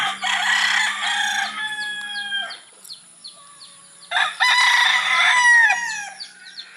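A White Kelso gamefowl rooster crows twice, loud and close, in a small backyard gamefowl farm, with clucks and chirps from other birds in the pauses between the crows.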